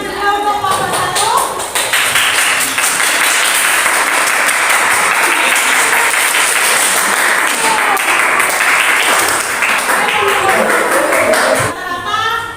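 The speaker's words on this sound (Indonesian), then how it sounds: "Oke, boleh tepuk tangan juga untuk kelompok 1." A classroom group gives sustained applause for a presenting team during a teacher-training session, a dense wash of many hands clapping for about ten seconds, with a voice briefly heard before and after.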